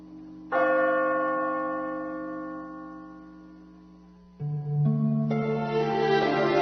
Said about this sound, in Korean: 성당의 종소리가 아득히 들려오기 때문이었다.